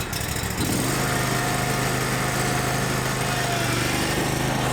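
Honda Civic VTEC engine cranks and catches, then settles into a steady, loud, continuous running drone close by, with no talk over it.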